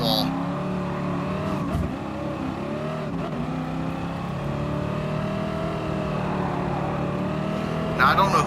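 A race car engine in the Gran Turismo video game drones steadily and up close, its pitch rising and falling with gear changes and throttle, and a voice talks over much of it.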